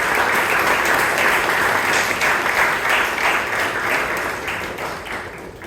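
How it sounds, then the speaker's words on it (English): A room of club members at a Bangalore Toastmasters meeting gives a sustained round of applause for a toastmaster, the dense clapping steady and loud throughout before tapering slightly toward the end. "Can we have another big round of applause for Toastmaster Richard?"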